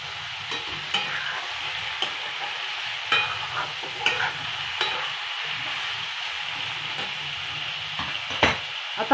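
Half a kilo of mutton fries with garlic in a pan, a steady close sizzle under repeated scraping stirs and clinks, no voices.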